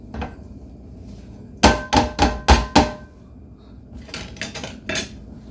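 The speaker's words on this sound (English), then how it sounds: "I'm going to put the meat in for her" Drained cooked meat thuds and scrapes into a metal chili pot already holding beans and seasonings, a quick burst of five or six sharp clanking knocks followed by a softer run of lighter taps.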